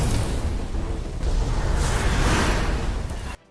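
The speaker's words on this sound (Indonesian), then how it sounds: "Terjadilah ledakan yang super besar." A huge explosion in an animated Chinese donghua fight scene, a loud roaring blast with whooshing rumble that sustains for about three seconds before cutting off abruptly.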